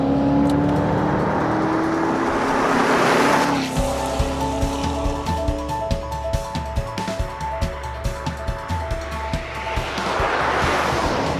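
A Chevrolet Corvette Z06 is driven hard on a winding coastal road, its engine roaring loud and close, rising in pitch through gears and then pulsing through repeated rev changes as it powers along.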